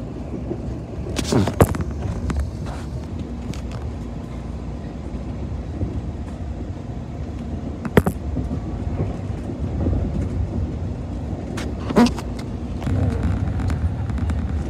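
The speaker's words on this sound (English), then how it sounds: "Here's your CSX diesel, guys." A CSX diesel locomotive train passing a station near Cos Cob, Connecticut: a steady heavy rumble and clatter of wheels, with a few sharp bangs and squeals, heard nearby.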